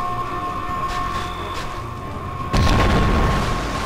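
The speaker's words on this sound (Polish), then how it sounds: "Zobacz, jak tu wygląda wybuch." A low ambient hum gives way to a sudden loud boom, followed by a rumbling, crackling tail from a bomb explosion in the game Conflict: Desert Storm II.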